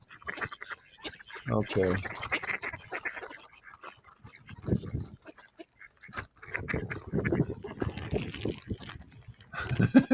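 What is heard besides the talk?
male and female mallard ducks quacking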